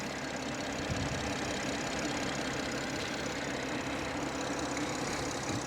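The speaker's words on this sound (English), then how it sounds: "Here's your BMW M Performance engine." A 2019 BMW M240i xDrive's M Performance engine idles with a steady, even rumble, running unbroken and close by with no voices over it.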